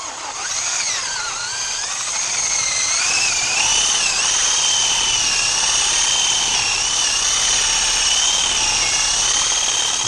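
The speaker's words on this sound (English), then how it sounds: "next is to get the drill going" A power drill runs steadily for the whole stretch, a loud, high whining motor that wavers slightly in pitch as it works, close up with no talking.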